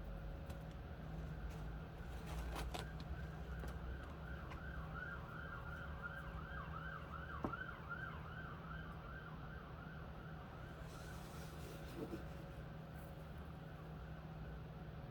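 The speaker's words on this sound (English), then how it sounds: "I've been hearing sirens" Emergency vehicle siren wailing at a distance on a snowy morning, a faint rising-and-falling tone that cycles repeatedly under low background hum.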